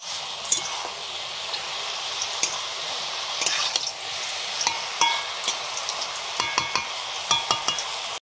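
Spices tempered in hot mustard oil in a home kitchen pan, a soft continuous sizzle broken by irregular sharp pops and clinks of stirring, close and fairly quiet with no talk.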